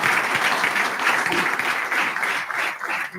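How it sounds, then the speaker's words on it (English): Steady applause for the speaker at a wellness talk, a dense, even patter of many hands clapping throughout, fairly close and full, easing slightly toward the end. "Please, can we have a round of applause for Dr."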